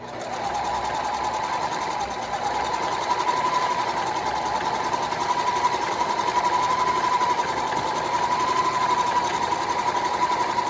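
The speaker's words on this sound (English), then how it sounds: "I'm going to stitch right across." Sewing machine stitching straight across a fabric apron, a steady close mechanical whir with rapid rhythmic needle chatter running continuously throughout.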